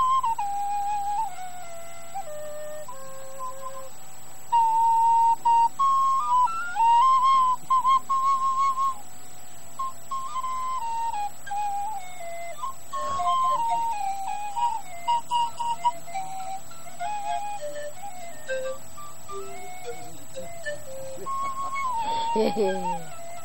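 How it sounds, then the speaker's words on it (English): A small penny whistle plays a simple wandering melody of short held and stepped notes, close and fairly loud, with brief pauses and a few quick runs near the end. "This is the little penny whistle I was telling you about."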